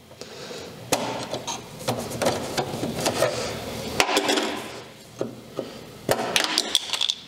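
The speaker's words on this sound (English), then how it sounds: "I will pop the covers. They came loose really easy." Sharp plastic snaps and clacks as interior trim covers are popped loose inside a Mazda MX5, several distinct close cracks with rustling handling noise between them and no speech.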